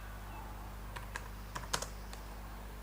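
A short burst of typing on a computer keyboard, with about half a dozen quiet, close key clicks spaced irregularly over a faint steady room hum.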